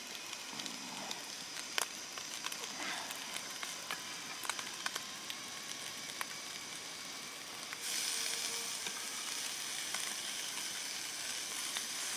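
Tomatoes sizzling and crackling in a pan, steady frying with scattered pops, getting louder and brighter toward the end.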